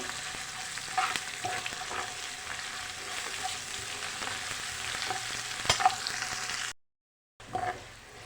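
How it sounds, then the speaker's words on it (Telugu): Ginger paste frying in a pan, a soft steady sizzle with light scraping stirs and occasional ticks, quiet and close, cut by a short silent gap near the end. "అల్లం పేస్ట్ కొంచెం హాఫ్ టేబుల్ స్పూన్ దాకా వేసుకొని ఒకసారి ఫ్రై చేయండి"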